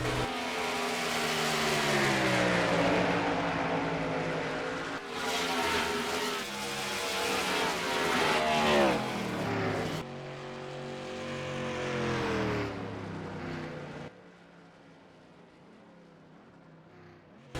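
Race car engines from the NASCAR Racing 2003 sim, running 2009 Car of Tomorrow stock cars in career mode on an oval, drone loudly and continuously with shifting pitch as cars pass, easing to a quieter engine hum near the end.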